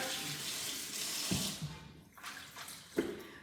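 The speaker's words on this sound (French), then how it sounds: "Je vais vite rincer mon poireau" A leek rinsed under a running kitchen tap, with a steady close rush of water splashing in the sink, briefly interrupted as the leek is moved about, then resuming with a few splashes.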